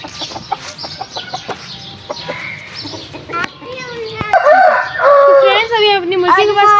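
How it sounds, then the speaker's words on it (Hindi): An egg-laying hen clucks in a series of short, throaty calls that grow louder and more drawn out toward the end, mixed with a person talking nearby. "हम अपनी अंडे वाली मुर्गी के पास भी जाते हैं"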